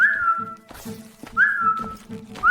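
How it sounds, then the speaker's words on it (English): A video game character whistles three times, short rising-then-level tones spaced about a second apart, each over a soft rhythmic thudding of footsteps or game ambience. "let's whistle for this"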